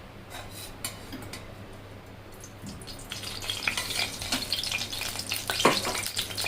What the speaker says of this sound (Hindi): सबसे पहले हम इसमें तेल डालेंगे।